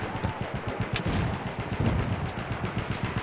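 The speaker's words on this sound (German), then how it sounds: "Überall Granaten." Dense, rapid bangs rattle continuously through a Battlefield 1 battle in the Argonne Forest, grenade explosions and gunfire blending into a steady barrage of thumps at moderate loudness.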